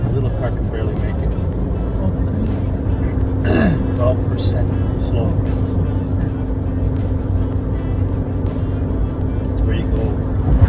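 A small car's engine labours up a very steep road in Madeira, a steady low drone running throughout under continuous conversation.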